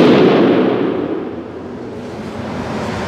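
A single rifle shot fired with Hornady match ammunition at a target range, a loud blast at the start that rolls off into a long, fading rumble and echo with no voices.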